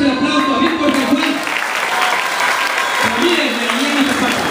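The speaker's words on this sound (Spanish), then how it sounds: "Vamos a darle fuerte, fuerte el aplauso a Víctor San Juan" Steady, loud clapping from the crowd at a runners' award ceremony, sustained throughout with a voice speaking over the applause.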